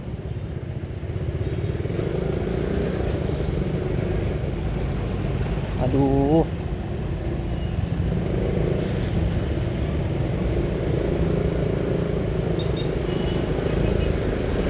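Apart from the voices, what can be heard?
traffic jam at a red light on a road in Bekasi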